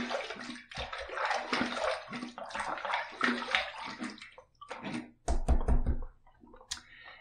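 Running water rinsing a razor during a shave, a continuous close splashing stream with a few clicks, broken by a brief pause and a louder gush near the end.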